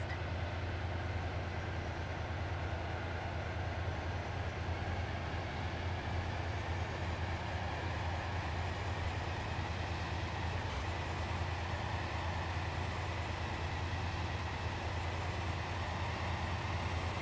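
Steady rumbling of a train ride in the Stepford County Railway video game, a Connect service heading to Willowfield, with a low continuous rolling drone that stays even throughout and no voices.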